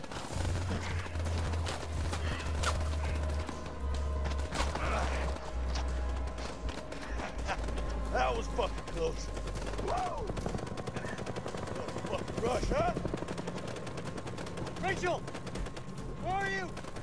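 Gunfire in the video game House of Ashes, sustained rapid automatic bursts and shots over a constant battle din, with people talking excitedly over the shooting.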